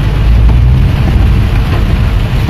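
Steady, dense rain roaring without a break, heavy and close, with a deep low rumble underneath and no voices.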